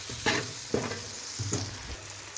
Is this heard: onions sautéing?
yes